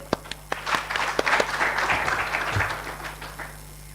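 A conference audience applauds a speaker in a hall, steady clapping from many hands with a few sharper individual claps, swelling and then gradually thinning out over a low constant room hum.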